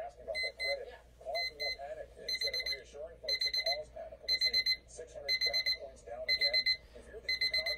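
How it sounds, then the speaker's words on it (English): A battery-operated analog alarm clock beeps in repeated bursts of rapid electronic tones, the groups coming steadily and growing louder, with a low background hum. "Now, here's the alarm."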